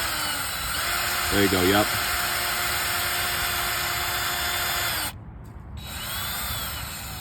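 Power drill boring holes for a backyard pull-up bar, a sustained high whine running several seconds, cutting out briefly before resuming, while people speak over it.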